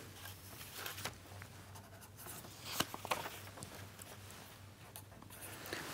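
A pen writing out a math equation makes faint, continuous scratching strokes with a few sharper taps, close but quiet against a low steady hum, with no talking.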